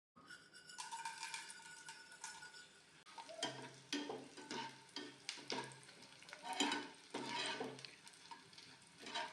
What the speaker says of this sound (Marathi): डिंक तळून घ्यायचं आहे पहिल्यांदा.